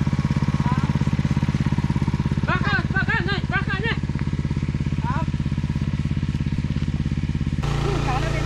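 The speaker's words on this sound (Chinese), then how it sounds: "我们就用那个发电机来喷，来做那个喷水设施，再用发电机引那个水去打" A generator runs in a ginger field to pump water for spraying, giving a loud, steady idling engine drone throughout, with brief voices calling out over it.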